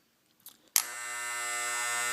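An Andis hair trimmer with loosened blade screws clicks on after a few small handling taps, then holds a steady, close electric buzz to the end.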